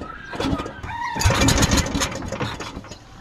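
A vehicle engine cranks and catches, rising into a rough, loud running rumble with a couple of revs, close by, then settling slightly toward the end.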